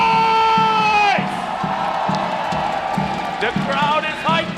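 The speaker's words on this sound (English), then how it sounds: "The crowd is hyped up." A packed esports championship arena crowd at the M5 World Championship wild card stage roars and whoops in a loud, continuous wash, with rising shouted voices cutting through near the start and end.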